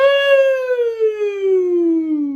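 A single voice imitates a police siren, a loud sustained "woo" wail that slowly glides downward in pitch.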